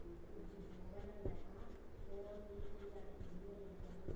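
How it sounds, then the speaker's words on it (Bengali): Pen writing on paper while marking the matching sides of a triangle for a class 8 geometry problem, soft scratchy strokes with a brief tap, quiet and close. "অনুরূপ বাহু লিখে দিচ্ছি।"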